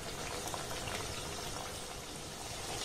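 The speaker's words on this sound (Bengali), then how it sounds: "এগুলোকে আমি সুন্দর করে ভেজে নেব" Gaja pastries made from flour and sugar fry in hot oil on a low flame, giving a dense, even sizzle that stays constant throughout.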